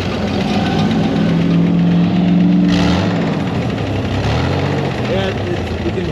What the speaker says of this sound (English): Yeah, you can hear that band grab and engage.